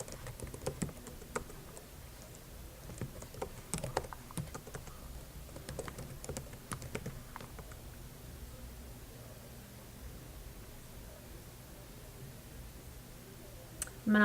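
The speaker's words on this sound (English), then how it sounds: "I'm going to start typing in the headings." Computer keyboard typing while table headings are entered into a document, faint scattered key clicks in irregular bursts over a steady low background hum, with no talking.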